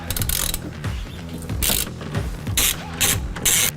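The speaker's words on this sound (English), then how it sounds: "with the rear strap with an 11mm socket, we are going to be removing the rear strap" An 11mm socket on a ratchet loosens the fuel tank strap bolts on a 2019-22 Mercedes Sprinter van, making rapid close ratcheting clicks in several bursts separated by brief pauses.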